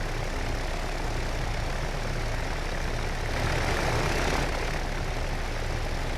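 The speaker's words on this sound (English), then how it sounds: "Nice old engine noises." Old piston aircraft engines in the naval war video game Victory at Sea Pacific drone in a steady, loud, rough roar that swells briefly in the middle, with no voices over it.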